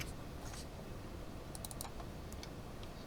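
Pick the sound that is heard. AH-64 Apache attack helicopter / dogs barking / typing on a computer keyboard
typing on a computer keyboard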